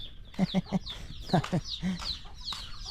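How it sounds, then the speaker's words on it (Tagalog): Chicks cheep in high, repeated peeps close by, mixed with a few lower clucking calls in quick bursts. "Yung mga sisiw natin."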